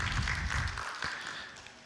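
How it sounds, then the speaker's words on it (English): Audience clapping at a talk by Jamaica's High Commissioner to India, a dense burst of applause that fades out over about two seconds. "I'm going to say it again so you can clap."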